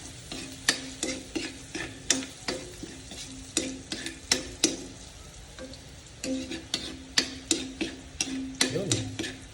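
Pancit adobo sizzles steadily in a frying pan while a utensil stirs and scrapes it in repeated sharp strokes, close and fairly loud, with a low hum running underneath.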